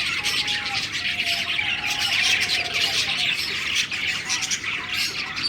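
A flock of parrots, grey and yellow birds pairing up, squawks and screeches continuously, loud and near, with a thin whistling call drifting through the chatter.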